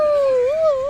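A small jackal at the Jawalakhel zoo gives a single close, clear, wavering howl that rises and dips briefly in pitch.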